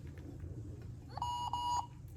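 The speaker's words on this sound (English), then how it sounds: "I don't know if he's supposed to make that loud beeping noise." A 2013 Tiger Electronics Elmo toy gives a loud electronic beep, a short steady tone broken into two or three quick pulses over a low background rumble.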